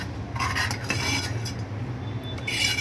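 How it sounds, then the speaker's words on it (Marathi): A spoon scrapes and clinks steadily around a pan of ghee simmering on low gas, a continuous close stirring rattle with faint sizzle and no talk. "कमी गॅसवर ठेवून असं हलवत राहायचं."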